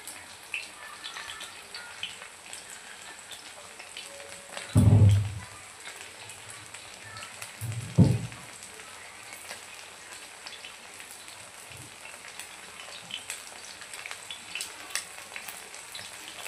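Katla fish pieces frying in a pan, a quiet, even fizzing crackle like light rain that continues throughout, broken by two dull thumps partway through.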